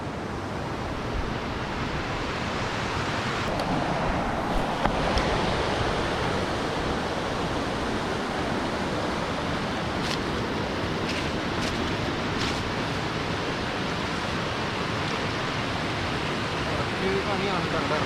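A waterfall pours down in a steady, dense roar of rushing water that stays constant throughout, loud and unbroken, with no voices over it.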